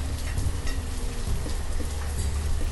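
Steady rain falls continuously in the city-building game Banished, a dense, even hiss of drops spattering on surfaces with no speech over it.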